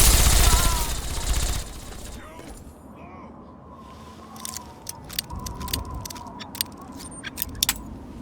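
Gunfire in a Fallout 3 cutscene, a burst of rapid shots after a loud opening passage, then scattered sharp cracks at moderate distance mixed with other game sounds and voices.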